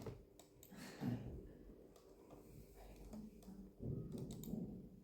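Soft clicking of a computer keyboard and mouse, several light taps spread across the clip under quiet background murmur.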